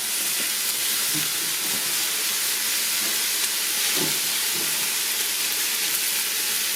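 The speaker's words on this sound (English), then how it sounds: "turn the burner down pretty low so it'll keep cooking but not keep frying necessarily" Catfish stew with potatoes sizzles and fries steadily in a pot on a burner, a constant hissing sizzle with faint low bubbling underneath and no talking.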